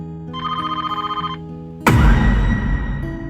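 A telephone rings with a rapid trilling electronic bell for about a second, then a loud crashing burst of noise takes over.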